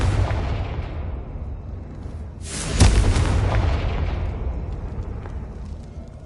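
A Confringo fire spell in Hogwarts Legacy lands as one loud explosive boom with a sharp crack, then a rumbling tail that fades over a steady low background roar.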